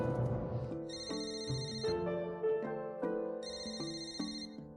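A telephone ringtone plays a repeating electronic melody, two bright ringing bursts with a pause between, clear and alone with no voices.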